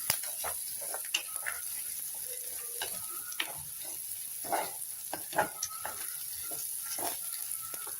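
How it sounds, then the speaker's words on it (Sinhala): Ambarella curry ingredients with mustard seeds and salt frying in a pan, a soft steady sizzle with scattered crackles and light stirring clicks, close and fairly quiet, no talk. "ලුණු ටික, සියලුම ද්‍රව්‍ය හොඳින් කලවම් කරගෙන බැද ගන්න ඉඩ දෙනවා"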